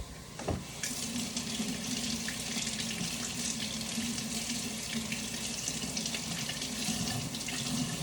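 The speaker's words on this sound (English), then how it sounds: "If your carrots are particularly covered in dirt, give them a rinse" Tap water runs steadily into a sink as dirty carrots are rinsed beneath it, a constant close splashing hiss that begins after a short knock and holds evenly to the end.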